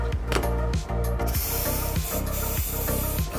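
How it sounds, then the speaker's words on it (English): Carburetor cleaner sprayed onto EGR valve parts makes a loud, close, continuous aerosol hiss, with a few short bursts at the start before a sustained spray. "The system components need to be cleaned with a carburetor cleaner."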